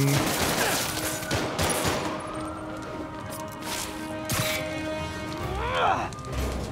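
Gunfire in the Spider-Man Remastered video game: scattered shots and short bursts amid fight impacts and game effects, mid-level and continuous, with a voice chattering over it.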